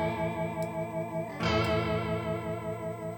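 Guitar notes run through a Valeton GP-200 pitch shifter and octaver, sustained layered tones with shimmering harmonics, a new chord struck midway, played alone at moderate volume.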